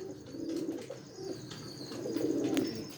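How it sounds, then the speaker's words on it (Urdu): Pigeons coo softly in low, rolling, repeated phrases at close range, with faint chirps and ambient noise between the calls. "یہ میں نے کبوتر جو اکٹھے کیے ہوئے ہیں"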